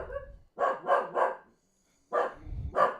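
An indoor dog barks repeatedly and loudly nearby: a burst of three quick barks, a short pause, then two more, alone without speech.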